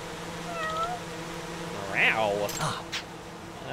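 A cat meows in the video game Judgment, a couple of drawn-out mews followed by a louder, rising meow over a steady background hum, with a voice speaking alongside.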